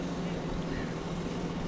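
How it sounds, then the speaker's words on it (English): A 15 horsepower outboard motor on a dinghy drones steadily, a low constant hum mixed with wind and water noise, heard briefly from nearby. "Old mate has a 15 horsepower on the back of a dinghy and it's doing the job."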